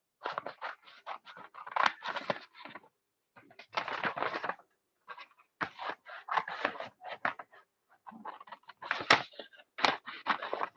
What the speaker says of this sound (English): You can definitely let the children cut on their own.